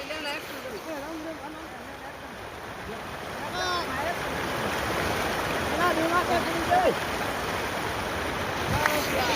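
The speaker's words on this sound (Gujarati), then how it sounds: "આ જો કેટલું ઊંડું સમજો કેટલું પાણી જઈ રહ્યું છે." Deep rainwater rushing through a village lane during heavy rain, a steady churning flow that grows slightly louder, with people talking over it.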